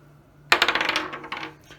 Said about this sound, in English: when my opponent comes to roll the dice